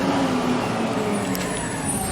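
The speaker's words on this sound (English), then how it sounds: "And here comes a noisy-ass garbage truck." A loud garbage truck rumbles by nearby with a steady engine drone and a brief hiss, filling the short stretch without voices.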